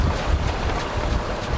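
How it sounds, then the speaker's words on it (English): Strong katabatic wind on the British Columbia coast buffeting the microphone, a loud continuous rumbling gust with low thumping bursts, close and unbroken. "Lots of catabatics right now, so like it's gotten really quite windy."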